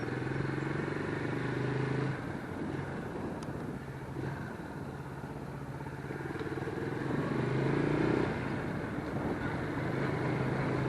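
A Lifan KP Mini 150 motorcycle runs steadily underway, its engine drone rising and falling through gear shifts with wind buffeting the microphone, continuous and fairly close with no talking.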